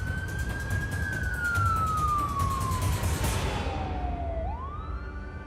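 An ambulance siren wails loudly and close at a UK emergency scene carrying a seriously injured victim, one long tone sliding slowly downward before a sharp rise near the end, over steady traffic rumble.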